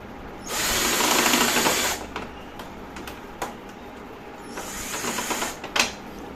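A cordless drill backs screws out of a workpiece in two loud, close whirring bursts, each lasting over a second, separated by quieter clicks and handling noise.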